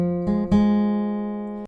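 An acoustic guitar plucks three quick fingerstyle notes in a picking pattern: the open fourth string, then the third string twice, ringing close and clear and sustaining afterward.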